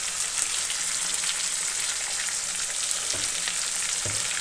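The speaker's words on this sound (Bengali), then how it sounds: "এবার মাছের পেটাপুটিটা একটু লবণ হলুদ দিয়ে ভাজা ভাজা করে" Fish belly pieces coated with salt and turmeric fry in hot oil, giving a steady close crackling sizzle with a couple of brief thumps from stirring.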